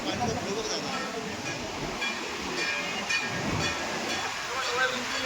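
Strong high-pressure river water rushes steadily through a narrow gorge near Badrinath, the Bhima flow sounding as a loud, continuous roar under intermittent talking.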